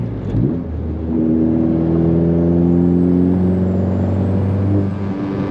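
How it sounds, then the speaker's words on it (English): A 10th gen Honda Civic Si engine rumbles close and loud with a deep, gruff diesel-truck-like tone, revving up into a sustained droning hum for several seconds, with no talking. "It sounds like a damn diesel truck."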